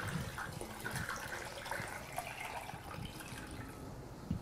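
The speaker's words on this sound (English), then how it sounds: "So all I'm gonna do is just pour this through the funnel" Apple pie moonshine is poured through a funnel into a jar, giving a soft, steady trickle and gurgle of liquid with small drips, fairly quiet and close, with no talk.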